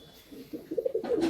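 A pigeon at a Kolkata high-flying pigeon sale gives a short, soft, throaty coo close by, with a brief louder burst at the end.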